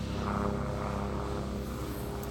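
A propeller airplane drones steadily overhead, a continuous engine hum with a low rumble that holds at an even, moderately loud level throughout, with no voices.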